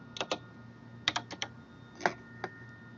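Typing on a computer keyboard, several quick clusters of close, crisp key clicks separated by brief pauses, with no talk.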